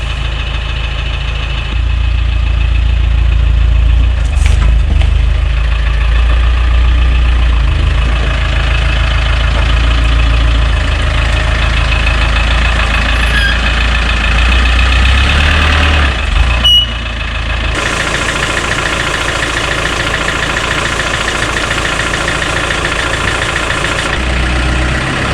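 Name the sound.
vehicle engine idling while being driven into garage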